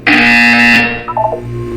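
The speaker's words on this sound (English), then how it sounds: "You will hear a buzzer." A loud, harsh buzzer from Portal 2 blares once for under a second, then falls to a short burst of electronic blips and a fading hum.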